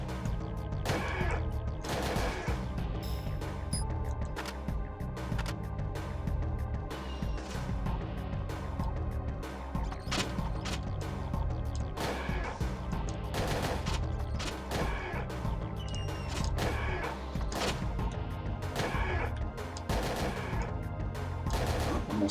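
Repeated gunshots at targets in Parasite Eve 2, sharp evenly spaced cracks firing over a steady pulsing game music bed throughout, fairly loud and close.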